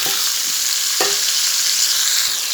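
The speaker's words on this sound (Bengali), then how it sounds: "এবার এই যে পটল দিয়ে দিচ্ছি" Pieces of pointed gourd dropped into a hot pan of oil, a loud steady sizzle and hiss throughout with a few brief clunks of the spoon, close up and without speech.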